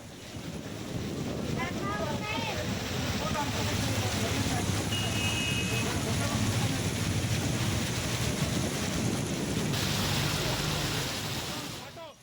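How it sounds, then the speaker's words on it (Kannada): Heavy monsoon rain and wind at Kukke Subrahmanya in Karnataka make a loud, continuous roar of rushing noise and buffeting gusts that holds steady throughout. "ಕುಕ್ಕೆ ಸುಬ್ರಹ್ಮಣ್ಯ ಈ ಭಾಗದಲ್ಲೂ ಕೂಡ ಧಾರಾಕಾರ ಮಳೆ"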